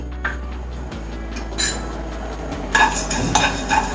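Coriander seeds being dry-roasted in a pan for a stuffed eggplant masala curry, with light clinks and scraping as they are stirred and shaken, close and steady over a low continuous hum.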